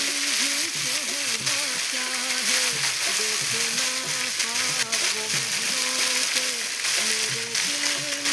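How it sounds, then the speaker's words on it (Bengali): Leafy greens with garlic frying in a pan, a dense, constant sizzle running the whole time, loud and close, with clinks and occasional stirring mixed in. "রসুনটা ভাজা হয়ে গেছে, এখন আমি শাক দিয়ে দেবো"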